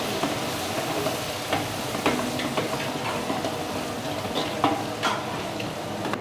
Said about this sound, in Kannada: ಈರುಳ್ಳಿ ಗೋಲ್ಡನ್ ಫ್ರೈ ಆಗೋವರೆಗೂ ಫ್ರೈ ಮಾಡ್ಬೇಕು.